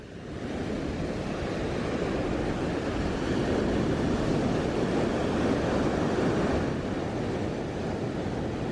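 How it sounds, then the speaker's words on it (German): Wild, loud Pacific surf on the coast near León, Nicaragua, a continuous roaring wash of breaking waves mixed with wind, with one swell building and easing, no voices. "Das Meer ist wild und laut und perfekt für Surfer."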